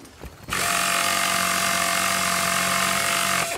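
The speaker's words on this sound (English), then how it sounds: "That's a power tool you've got there." A power tool whirs steadily while a broken vehicle is repaired in the video game Battlefield: Bad Company, starting abruptly after a brief thump and holding a loud, even mechanical drone.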